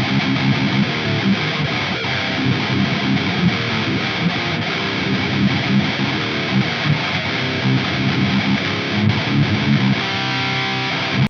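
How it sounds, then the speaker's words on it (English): Electric guitar run through the Line 6 distortion model on a POD Go multi-effects unit, playing a dense, continuously overdriven, fuzzy tone at steady loudness throughout. "this is the line 6 distortion in the Pod Go"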